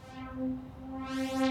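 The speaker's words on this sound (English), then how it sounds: "So the filter is an effect that kind of sounds like this." A sustained synth tone in the Dreams game on PS4 whose brightness swells, fades and swells again as a filter sweeps open and closed, with no talking.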